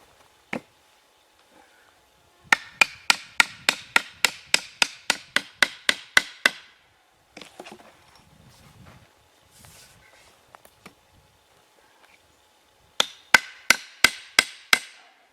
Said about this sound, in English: A slight tap, I think it'll go right on.